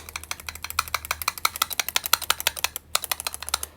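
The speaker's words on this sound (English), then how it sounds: "So it has a really nice click." A small 3D printed macaroon-shaped clicker fidget toy clicks in a fast, steady run of sharp, close taps, loud and alone with no voices.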